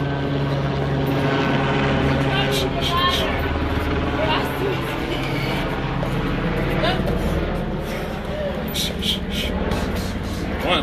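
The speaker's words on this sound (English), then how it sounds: "Oh, there's a police chopper again." Police helicopter flying overhead during an outdoor workout session, a steady droning rotor hum that fades slowly, heard under a voice counting reps.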